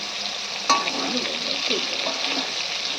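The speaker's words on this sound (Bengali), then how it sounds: "ঘুরে আস্তে আস্তে নাড়ো" Eggplant and flat beans frying in a pan on a Bengali village stove, stirred slowly: a steady sizzle with soft scraping stir strokes and one sharp clink near the start, close and continuous.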